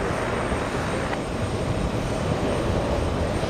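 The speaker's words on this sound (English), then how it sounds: "We're looking at American 43 flying in from Charles de Gaulle in Paris" An American Airlines airliner from Paris flying in to land at JFK airport, a steady loud engine roar that holds evenly with no voices.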